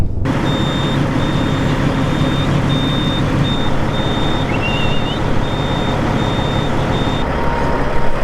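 A truck idles with a loud, steady engine drone while a reversing alarm beeps at a regular pace, with a brief squeal partway through.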